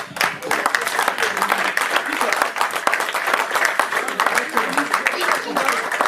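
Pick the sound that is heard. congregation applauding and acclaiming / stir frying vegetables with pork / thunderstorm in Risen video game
congregation applauding and acclaiming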